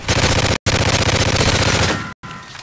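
Rapid automatic gunfire from a competitive shooter video game, a loud, dense burst of fast shots that runs for about two seconds, stops briefly, then resumes.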